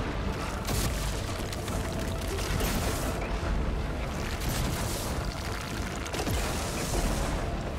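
A Rollerback machine's thruster-launched slam attack in Horizon Forbidden West: a loud, continuous barrage of heavy booms and crashing impacts with rumbling debris, dense and close, with sharper hits near the start and toward the end.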